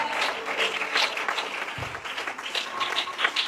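A church congregation applauding and cheering in praise during a worship service, dense continuous clapping mixed with voices from a large crowd filling the room.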